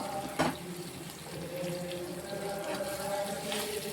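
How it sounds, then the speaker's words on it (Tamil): Boiled water is poured into a pan for upma, a soft continuous splashing and trickling with a brief louder splash near the start, heard fairly close and without talk. "தண்ணி வந்து நம்ம 3 டம்ளர் ஊற்றிருக்கோம்."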